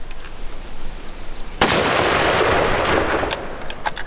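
A cheap budget rifle cracks out one sharp, loud gunshot outdoors. The report rolls off in a long echoing tail, and a few faint clicks follow as the rifles are swapped.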